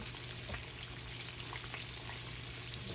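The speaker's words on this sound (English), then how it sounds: "we just gonna fry them just like chicken" Breaded pork steaks fry in hot oil like chicken, a steady, even sizzle that holds close and constant without pause.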